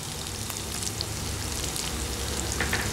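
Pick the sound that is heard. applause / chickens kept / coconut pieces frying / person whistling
coconut pieces frying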